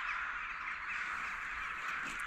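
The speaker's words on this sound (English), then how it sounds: "I think we might get killed by crows here." A flock of crows caws continuously at an abandoned airfield in Suffolk or Norfolk, a dense, steady chorus of harsh calls at moderate distance, with no talking.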